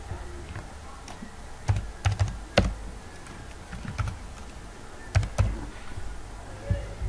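Keys clack on a computer keyboard while a captcha is entered, a series of light, close taps in irregular clusters over a low background hum, with faint talking mixed in.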